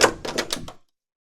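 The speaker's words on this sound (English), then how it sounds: "Reverend Samuel Paris rushed through the doors." Door sound effect in an audio drama as someone rushes in: a quick series of four or five close wooden knocks and rattles lasting under a second, then abrupt silence.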